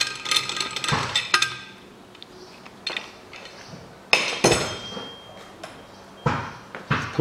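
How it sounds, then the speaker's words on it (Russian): A hammer taps repeatedly on the valve stems of a Toyota Caldina 2003 cylinder head after the keepers are fitted, giving sharp metallic clinks in irregular bursts at close range, with quiet pauses between strikes. "также выпускные простукиваю именно в клапан"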